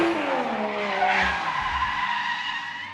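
A drifting car slides around Ebisu Circuit, its tires screeching loudly and continuously over the revving engine for about three seconds, tapering slightly at the end.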